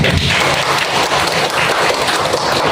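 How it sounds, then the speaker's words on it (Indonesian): An audience at a self-mastery sharing session claps together in a loud, dense burst of applause that holds steady from start to finish, with no talking. "Tepuk tangan biar semuanya."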